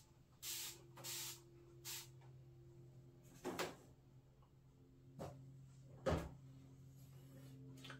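Several short spray-bottle squirts of water onto a Traxxas X-Maxx RC truck, three in quick succession then a few more spaced out, each a crisp hissing burst over a low steady hum.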